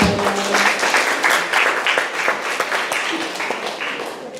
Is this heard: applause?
yes